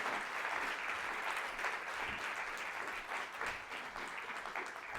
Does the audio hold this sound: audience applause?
yes